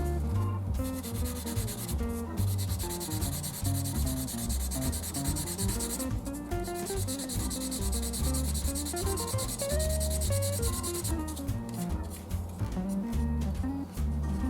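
Sandpaper rubbing back and forth steadily and close up, removing a mold line from a plastic Revell 1/24 Mercedes AMG GT model kit part, in a continuous scratchy rhythm with short pauses.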